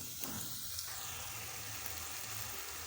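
Garlic fries in a pan while ratatouille is being made, giving a steady, soft hissing sizzle from start to end with no speech over it.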